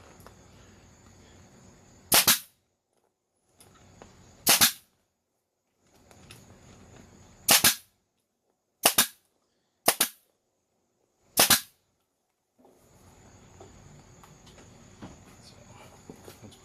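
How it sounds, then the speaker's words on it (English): A staple gun fires six sharp, loud shots at irregular intervals while stretching and fastening vinyl onto an ATV seat, with gaps of near silence and quiet handling noise in between. "fold my material, and shoot some staples in on an angle"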